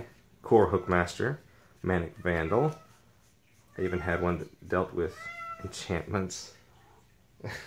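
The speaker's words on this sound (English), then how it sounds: "Those of you wondering what that is, that's my cat." Someone talks steadily while a cat meows briefly in the background, a short rising cry partly under the speech.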